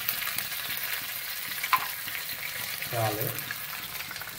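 Garlic and ginger garlic paste frying in a pan for Gobi Manchurian, a steady close sizzle with a brief stir partway through and a short spoken word over it.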